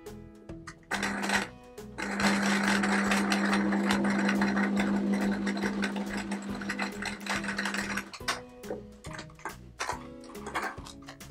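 Sewing machine stitching a patchwork quilt square: a steady, close whirring run of rapid needle strokes with a low motor hum lasts several seconds, framed by short bursts and clicks of starting, stopping and handling.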